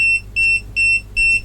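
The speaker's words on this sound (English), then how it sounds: "and now should be beep beep" A cheap KUAIQU 30V 10A bench power supply gives four evenly spaced, loud, pure electronic beeps in a steady on-off rhythm, with no talking.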